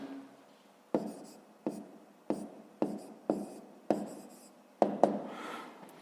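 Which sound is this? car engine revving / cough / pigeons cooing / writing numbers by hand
writing numbers by hand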